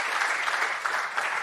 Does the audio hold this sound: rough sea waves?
no